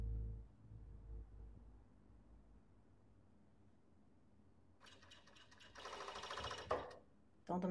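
A sewing machine stitches a long-sleeved robe with the right sides of the fabric together, running in two short bursts after a quiet stretch, with a brief stop between them.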